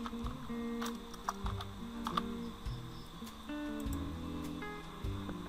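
Keys clatter in steady bursts of typing on a computer keyboard while a library name is entered in the Proteus circuit simulation software, close and clear over a faint background hum, with no talking.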